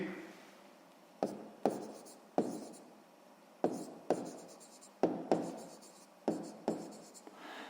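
Chalk or marker writes on a board during a sixth-grade maths lesson, producing repeated short strokes and taps in irregular bursts, close and fairly quiet with no talking.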